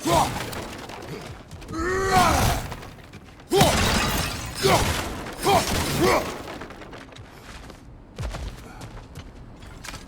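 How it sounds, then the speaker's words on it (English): Objects are smashed apart in the video game God of War Ragnarok, loud repeated crashes of shattering debris with ringing, creaking metallic tails, several heavy impacts spread across the stretch and no speech. "back to smashing through things for fun and profit"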